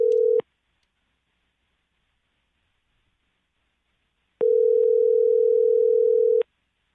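A telephone call goes unanswered, with two steady electronic ring tones: a short burst at the start, then a longer two-second tone after a silent pause, loud and clean with no talking.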